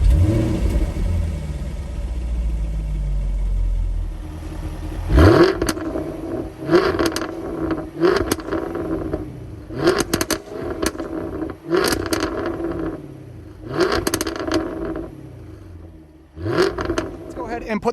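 A Jaguar F-Type R in dynamic mode with its exhaust valves open: the engine starts with a loud bark, then gives a series of sharp, loud revs that fall back between blips, with some talking heard early on.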